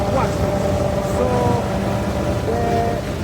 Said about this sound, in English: the forage harvester is a class Jaguar 61 trail.